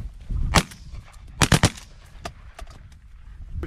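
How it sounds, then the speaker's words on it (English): Shotgun blasts fired at incoming geese during a duck and goose hunt, a quick series of sharp, loud reports with one single shot followed by a tight burst of three, set against outdoor noise. "Three shots to drop that one."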